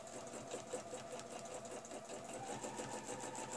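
Close, steady stitching from a sewing machine quilting a fleur-de-lys pattern along a ruler, a continuous fast whir with a rhythmic needle pulse throughout at low volume.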